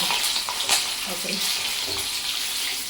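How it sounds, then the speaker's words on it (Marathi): Halved green chilies sputtering and crackling in hot oil on a switched-off stove, a dense, loud, continuous sizzle with sharp pops throughout. "जास्त तडम तडम चाललं आहे, भीती वाटते मिरच्यांची"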